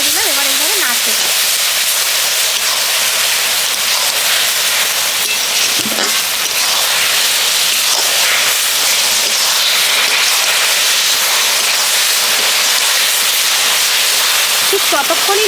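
Grated raw papaya stirred in a hot pan while cooking into a sweet with syrup, giving a loud, continuous hiss and sizzle with faint scraping of the stirring underneath.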